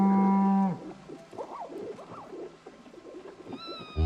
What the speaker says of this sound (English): Here's my cow.